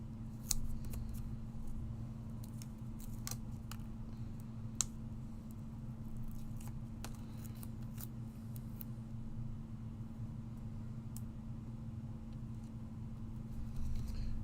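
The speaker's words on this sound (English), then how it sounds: "you can cut them down very easily because of the protective paper on either side" Scissors snip through foam card faced with protective paper, crisp irregular clicks and cuts repeating over a steady low hum, close and fairly quiet without talk.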